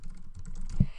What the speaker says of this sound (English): I'm just going to type in a gibberish domain